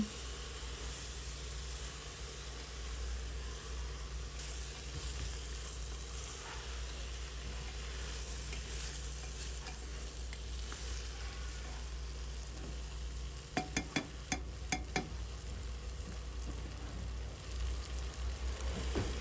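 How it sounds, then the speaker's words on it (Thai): Soaked basmati rice stir-fried in a pan, a faint continuous hiss and low sizzle, with a brief run of clinking scrapes from a utensil near the end and no talking. "ใส่ข้าวบาสมาติกที่เราแช่น้ำไว้ 30 นาทีค่ ะ ผัดให้เข้ากัน"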